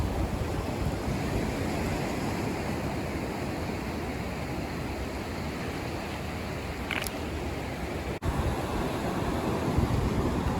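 Gulf of Mexico surf rolls onto Galveston Island beach, a continuous wash of breaking waves with wind buffeting the microphone, steady and fairly loud, with a brief sharp click near the end.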